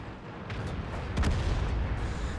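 Single heavy tank cannon shot from the RHM in World of Tanks on the Sand River map, a booming blast around the middle of the clip with rumbling low-end decay over continuous battle ambience.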